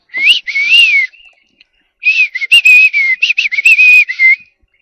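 A pet bird whistles loudly and close, in clear repeated phrases with rising and swooping notes, a pause, then a run of quicker choppy whistles.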